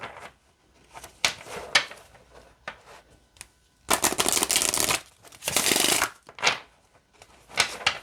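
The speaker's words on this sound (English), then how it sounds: "Okay, so I'll show you how they shuffle." Oracle cards being shuffled up close: scattered soft taps and slides give way to two longer bursts of rapid riffling flutter, followed by a few more light card handling sounds.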